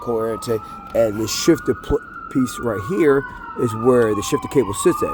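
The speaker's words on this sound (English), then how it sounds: "I'm in Philly, so you can expect always some police or ambulance activity." A police or ambulance siren wails steadily in the city background of Philadelphia, rising and falling under a man's close, continuous talk.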